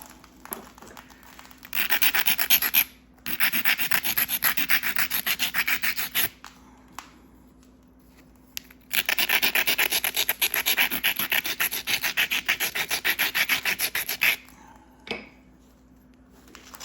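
A flint-knapping tool abrading a stone edge to form serrations, producing quiet, rapid rasping strokes in two long bursts separated by pauses and a few isolated scrapes, close up with no talk.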